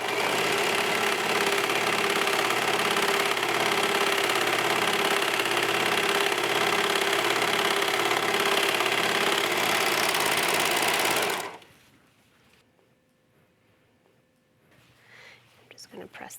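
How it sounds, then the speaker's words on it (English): A 4-thread overlock serger runs steadily at close range, stitching a side seam on a sports bra and tank top with ribbed trim, a dense continuous whir that stops abruptly, leaving near silence with faint movement. "I am using a 4-thread overlock on this, again, just because I want the strength. Stitch the other side seam."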